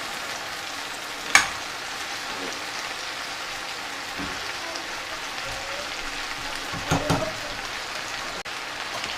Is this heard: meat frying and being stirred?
yes